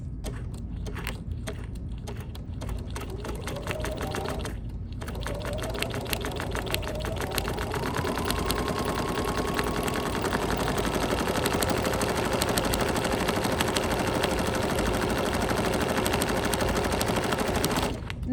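A sewing machine fitted with a circular embroidery attachment stitches a pie-shaped table runner, starting with a few short bursts and then running in a long, continuous rapid rattle close by.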